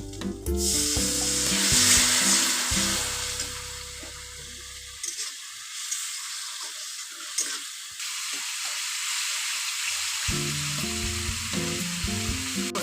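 Ginger-garlic paste in a pan sizzles loudly as spice powders and a splash of water go in for a cauliflower and green pea curry; the frying hisses steadily, dips briefly midway, then surges back, with low tones underneath.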